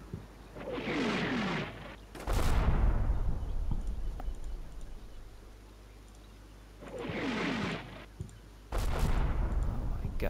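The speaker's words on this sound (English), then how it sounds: "Make it a light bombardment." Artillery bombardment in Combat Mission: Shock Force 2, with two clusters of heavy shell impacts, each a rolling roar of blasts followed by loud booms, separated by a few seconds of quieter rumble.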